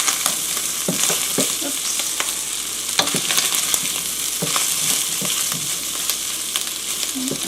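Shredded cabbage fries and caramelizes in a pan for a ham-and-rice dish, a steady close sizzle broken by irregular scrapes and stirring clatter, with one brief spoken word.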